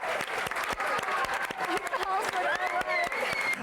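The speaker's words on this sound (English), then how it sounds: "give a big round of applause for Delisco" Audience applause for a stage entertainer, scattered claps with a voice singing or talking over them throughout.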